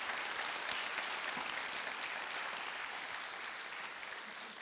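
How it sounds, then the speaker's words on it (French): A studio audience at a French talk show breaks into sustained applause, a dense wash of clapping that stays full before easing slightly toward the end. "je pense qu'on peut applaudir Sylvie Gratteau"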